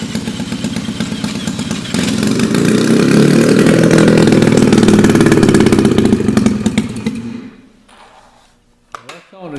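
A 1976 Polaris 250 Colt snowmobile engine being turned over and catching, running loud and close with a rough, buzzing two-stroke drone for several seconds before cutting out, followed by a few clunks.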